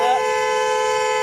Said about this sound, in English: Honking my horn at you is not illegal.